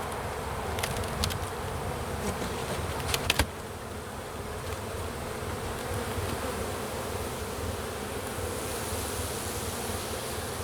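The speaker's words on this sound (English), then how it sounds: "there is a good population of bees though." Honeybees buzz steadily at an open hive during a spring inspection, a dense, continuous drone that stays close and even throughout. A few faint clicks occur near the start, and no one speaks.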